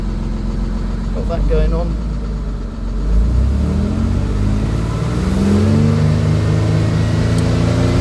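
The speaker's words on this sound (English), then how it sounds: "I'm going to rev the engine slightly" A Jaguar AJ30 V6 engine in a car revs up slightly from a steady idle, its rising drone holding loud and close while someone talks over it.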